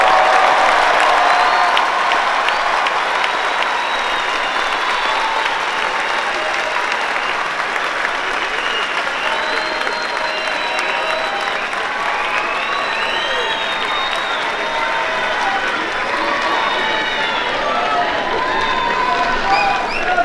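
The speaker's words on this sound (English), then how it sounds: "Let us recognize these students with our applause." College graduation crowd applauding students, with dense, loud sustained clapping and some cheering filling the large hall throughout.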